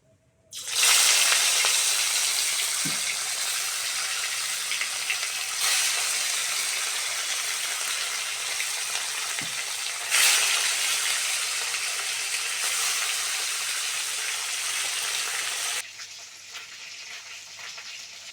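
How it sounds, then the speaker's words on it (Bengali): Pieces of pona fish rubbed with salt and turmeric sizzle steadily in hot oil in a wok, a loud, even hiss that runs without pause before dropping away abruptly near the end. "মাছগুলো বেশ লাল লাল করে ভেজে নিয়েছি"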